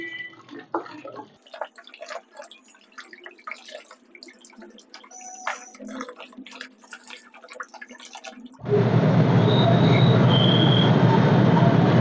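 Water sprayed onto the dusty mesh of an air conditioner's outdoor unit, scattered drips and taps first, then a loud steady hiss of spraying water for the last few seconds.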